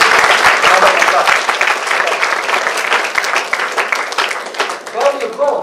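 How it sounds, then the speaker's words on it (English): Audience applause at a college event, a loud burst of clapping from a crowd that gradually thins, with a voice speaking over the fading claps near the end. "Let's give a great round of applause."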